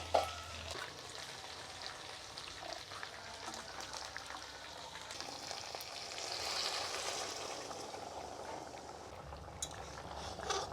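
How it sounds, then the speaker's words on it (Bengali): Fried stingray pieces in oil, with hot water just poured into the pan, give a faint, steady sizzle and soft bubbling that continues evenly through the stretch, with an occasional light clink. "তো গরম জল দিয়ে দিয়েছি"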